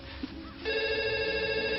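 A telephone rings in a home kitchen, its steady electronic trill starting partway through and continuing loud and close over a low room background.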